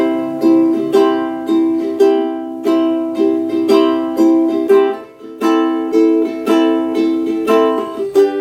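Ukulele strumming the repeated verse and chorus chord pattern of a song in a steady rhythm, loud and close, with no voice over it.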